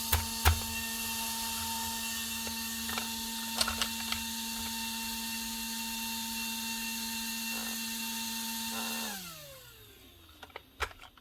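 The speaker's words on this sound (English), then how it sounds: "Motor starts anyway and stops." The motor of a TJEP ST 15/50 gas concrete nailer on a repair bench hums steadily and loudly for about nine seconds, then winds down and stops, with a few clicks and knocks around it.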